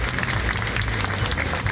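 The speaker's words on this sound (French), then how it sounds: "je pense qu'on peut les applaudir vraiment" Applause from an audience at a large Dragon Ball Super card game tournament event in Europe, dense steady clapping from a crowd filling the moment without pause.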